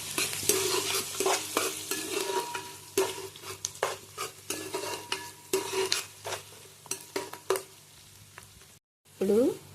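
Country chicken with turmeric being stirred in a hot pan, a spoon scraping in irregular strokes over a steady sizzle, close and fairly loud, with a brief pause near the end.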